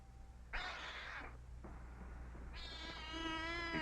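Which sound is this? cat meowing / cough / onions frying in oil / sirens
cat meowing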